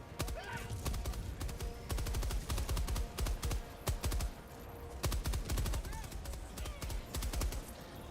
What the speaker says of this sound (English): Oh yeah, machine gun.